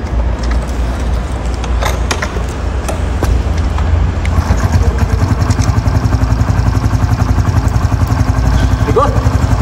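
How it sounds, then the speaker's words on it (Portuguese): A customized Honda Pop 110 motorcycle is running close by, with a steady engine drone that settles into a rapid, even putter at idle. It carries on without pause, and a voice is faintly present over it. "Eu vou até subir aqui pra ligar ela."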